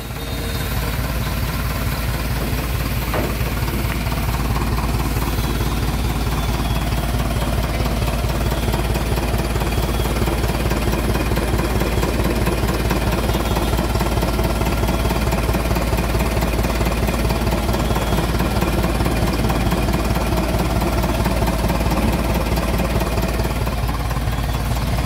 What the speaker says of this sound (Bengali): ইঞ্জিনের সাউন্ডটা শুনুন আপনারা।